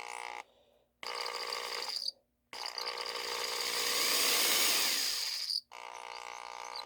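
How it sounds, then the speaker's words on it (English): A corded variable-speed drill with a universal motor runs in several bursts, its steady whining hum rising in intensity midway, separated by short silent pauses. "is the fact that it hums due to it using a universal motor"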